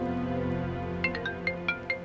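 Phone ringtone for an incoming call, a repeating electronic melody of short bright notes playing alone over a sustained musical backdrop.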